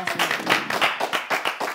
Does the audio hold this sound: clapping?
yes